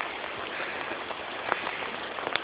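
A hailstorm pelts the ground outdoors in a heavy, steady roar of dense hits, with a few sharper, louder impacts standing out close by.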